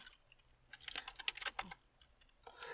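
Someone types a Linux command on a computer keyboard with an international English layout, a quick run of soft, close key clicks that taper off and then resume briefly, with no talking.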